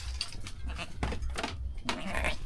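Goats on a farm in Java, kept mainly for manure, bleat repeatedly at close range in short, uneven calls over a steady outdoor background, with a voice talking faintly now and then.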